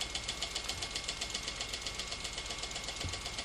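A Weeden Model 20 toy steam engine runs steadily, its fast, even chuffing and mechanical ticking close and continuous, with a faint hiss of steam throughout and a brief low knock near the end.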